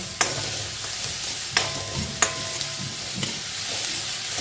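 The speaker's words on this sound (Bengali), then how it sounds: "এবার এটাকে নেড়ে চেড়ে এটাকেও ভাজতে হবে" Onions for Bengali-style ghughni frying in a pan and being stirred, a steady sizzle broken by a few sharp spatula knocks and scrapes against the pan, close and unaccompanied by speech.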